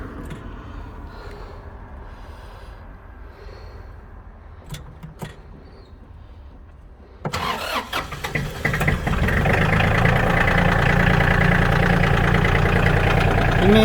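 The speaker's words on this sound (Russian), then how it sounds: "Давайте заведем." An Iseki GEAS33 Japanese mini tractor with front loader and tiller cranks over after a quiet stretch, then settles into a loud, steady, rough diesel idle close by.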